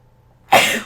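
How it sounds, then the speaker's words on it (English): A single loud, abrupt sneeze bursts out close by after a moment of near silence. "Oh, I'm going to sneeze."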